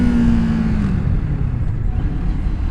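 A Kawasaki Ninja 650 motorcycle engine held at steady revs, a loud, close, continuous low drone that holds a tone briefly and then rumbles on with little change.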